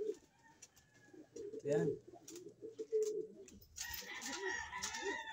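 Pigeons in a fancier's loft coo in soft low murmurs, scattered through the clip under a person speaking, with some brighter chirps and rustling toward the end.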